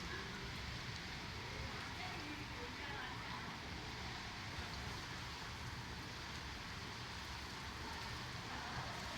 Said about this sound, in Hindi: तो ये बारिश और तेज़ हो गई है